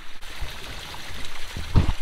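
Irrigation water running along every other row of a corn field, pumped by an electric motor, gives a soft, steady trickling flow with a few louder splashes near the end, heard alone without talk.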